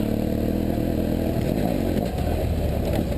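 BMW F800GS motorcycle accelerating uphill off-road in second gear, a loud, steady close-up engine drone with rough gravelly clatter, no pauses.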